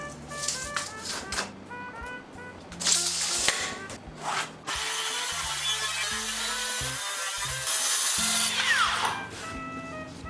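Saw cutting through a 2 m wooden tabletop, a steady, fairly loud rasping and grinding run for about ten seconds over a tonal, melodic bed with shifting low notes.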